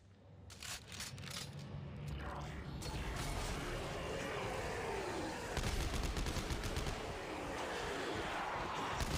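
Loud gunfire rattles in bursts in the co-op horror shooter Dead Space 3, with bangs and mechanical clanks packed close over a heavy rumbling game soundtrack.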